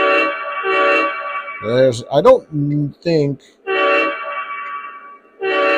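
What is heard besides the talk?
O-gauge model train locomotive horn sounds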